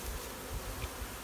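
Honeybees buzzing at a hive on the first day after a new queen is placed, a steady low insect drone alone with no voices.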